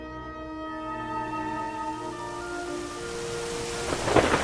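Thunderstorm rolling over a city: a long low rumble of thunder builds and sustains over steady rain, swelling louder near the end with crackling bursts, no voices.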